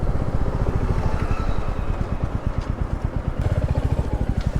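A Royal Enfield Bullet 350 Classic single-cylinder motorcycle idles close by in a loud, steady, deep rhythmic thump, its even beat persisting throughout without talk.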